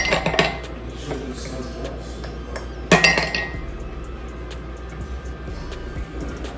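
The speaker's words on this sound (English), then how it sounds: "from here, I'm gonna take my ice cubes" Ice cubes clink and clatter into a glass, a few sharp impacts with one louder drop midway and lighter rattles after.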